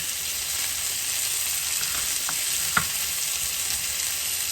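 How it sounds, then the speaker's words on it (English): Chicken pieces sizzle in a pan while browning for chicken cacciatore, a steady bright hiss of frying with a couple of faint clicks of stirring, close and unbroken, with no talking. "Boy, that chicken is sizzling."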